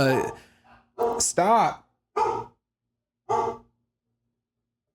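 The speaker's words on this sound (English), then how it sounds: "That's my dog. My dogs are freaking out." Pet dogs bark indoors in a few short, loud bursts, with gaps between them, while a person speaks a word over the commotion.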